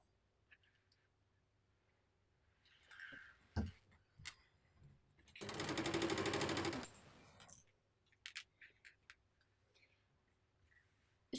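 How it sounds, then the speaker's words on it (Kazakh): A sewing machine stitching mesh fabric for a turban, one short dense burst of rapid stitching in a quiet room, framed by faint clicks and handling sounds. "Үстінен бастырып тіктік."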